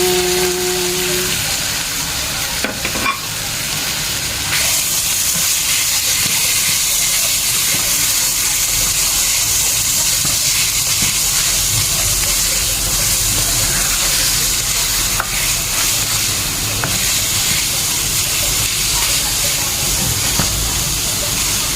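Chicken frying in a pan, a loud, steady hiss and sizzle that runs close and unbroken throughout, with faint background voices at the start.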